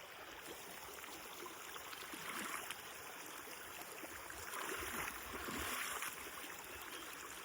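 A full river running up against a small dam in a coconut grove area of the Konkan, a steady broadband rush of flowing water close by, continuous and even with slight swells, no voices.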